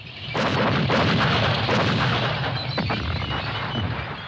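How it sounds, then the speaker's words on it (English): Artillery barrage opening a 1975 attack in the Vietnam War, a loud, sustained roar of heavy booms and rumbling explosions layered together, with scattered sharp cracks over a thunderous low rumble. "An artillery barrage opens the attack."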